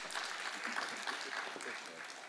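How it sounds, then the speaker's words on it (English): Conference audience applauding at an effective communicators event, a steady wash of clapping held at moderate level throughout, with faint voices mixed underneath. "Please give him a round of applause."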